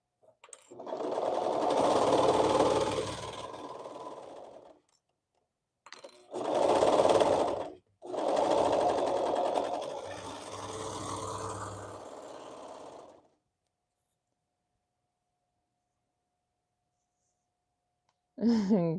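A sewing machine bastes a hoodie together in three whirring runs of stitching, close and steady, then falls silent before a brief sound at the end.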